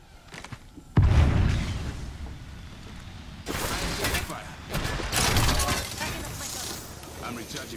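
In Apex Legends, a sudden booming grenade blast erupts after a brief quiet, followed by crackling, rumbling aftershocks and bursts of game noise; no voices in between.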